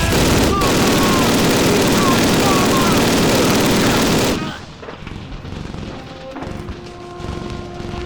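Heavy gunfire in a Call of Duty (2003) cutscene set in a Soviet battle: a loud, dense stream of rifle and machine-gun shots fills the first four seconds, then drops to a distant rumble of battle.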